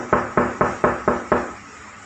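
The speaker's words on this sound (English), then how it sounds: "this knocking sounds quite a bit faster than the previous one." Six fast, evenly spaced knuckle knocks on a hard surface, close and sharp, each with a short ringing tail, followed by quiet.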